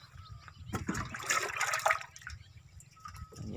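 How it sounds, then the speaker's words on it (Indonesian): Water pouring into a 15-liter sprayer tank, mixed for treating tomato pests, gives a steady splashing trickle that swells in the middle and then eases, with no voices over it. "Oke, ini kemudian dimasukkan airnya."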